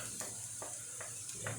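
Steady sizzling of onion, carrot and garlic frying in a pan for a zucchini spread, with a few soft stirring scrapes at regular intervals.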